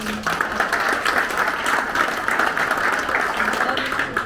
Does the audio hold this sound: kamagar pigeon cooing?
no